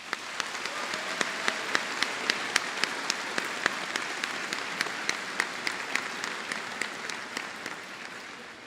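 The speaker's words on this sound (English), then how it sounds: "Please join me in giving the Lorain County JVS staff members a round of applause." An audience at the 2019 Lorain County JVS senior recognition ceremony applauds the staff, a continuous soft roar of many hands clapping with scattered sharper individual claps standing out, fairly distant.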